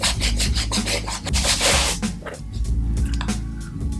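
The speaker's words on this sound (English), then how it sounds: "wet your brush, wet the shoe, start scrubbing." A wet brush scrubs a wet sneaker with Jason Markk shoe cleaner, giving loud, continuous rhythmic back-and-forth rasping strokes close up.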